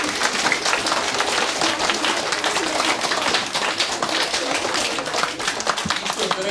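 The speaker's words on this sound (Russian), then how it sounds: "И давайте еще раз поприветствуем аплодисментами замечательного актера театра кино Александра Синюкова." Audience at a theatre-and-film actor's musical-literary program applauds steadily, a dense even clapping throughout with no pauses, fairly close and loud.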